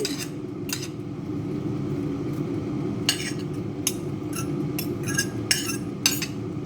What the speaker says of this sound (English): I've got more onion, zucchini, baby marrow, mushrooms. Mix that in.